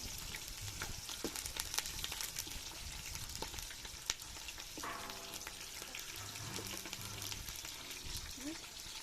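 Green chillies sauté in a pan for village-style chicken biryani, a soft, steady sizzle with light clinks of stirring, under faint background sounds.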